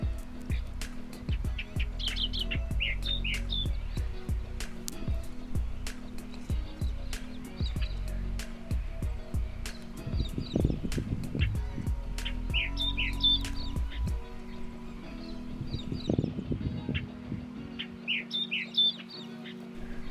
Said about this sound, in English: I think that was a reed warbler that was just singing in the reeds